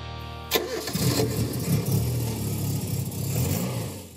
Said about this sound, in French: C'est le moment idéal pour faire chanter ce moteur de légende.